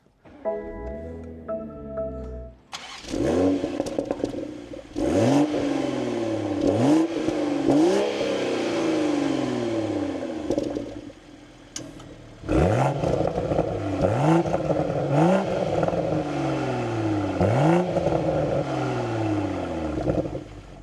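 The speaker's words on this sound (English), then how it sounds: "let's fire this up. So we'll put it into neutral and we can bring this M40i to life." A 2025 BMW Z4 M40i with a manual gearbox starts up with a whirring crank and catch, then settles into idle and is revved repeatedly in neutral, loud and close, with rising and falling blips in two bursts.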